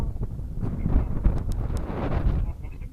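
Wind buffets a microphone outdoors at a church, a steady low rumbling roar filling the clip with brief faint higher sounds over it.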